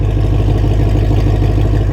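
A Ford Mustang GT500 V8 sits idling smoothly, a loud, close, steady low rumble with an even pulsing beat and no revving.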